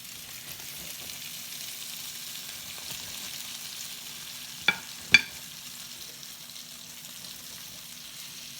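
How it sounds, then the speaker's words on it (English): Garlic butter brushed on pizza breadsticks gives a soft, steady sizzle, faint and close, with two sharp clicks partway through. "You can hear that sizzle."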